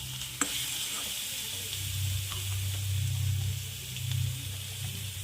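Spinach fries in oil in a pan with a steady, close sizzle that swells slightly as it is stirred, broken by a sharp utensil tap near the start.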